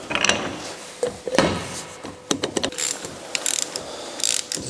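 Bolts on a drivetrain clutch are tightened with a ratchet wrench during a winter rebuild, producing close, sharp ratcheting clicks in quick bursts with metallic knocks in between, and no voices.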